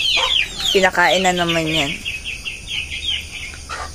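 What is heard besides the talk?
chickens clucking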